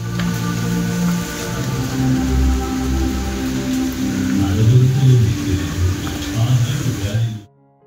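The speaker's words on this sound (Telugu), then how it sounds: "స్లోగా వర్షం కూడా స్టార్ట్ అయింది." Light afternoon rain begins falling in a steady, soft patter on surfaces outdoors, with low rumbling and someone talking over it throughout before it cuts off.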